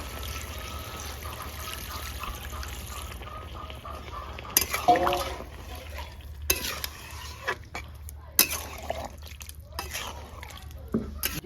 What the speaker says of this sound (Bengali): এবারে আমি জল দেবো জলটা গরম করে রেখেছিলাম